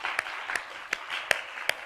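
Sparse clapping from a church congregation at a Friday evening worship service, a handful of separate claps spaced apart over a faint background.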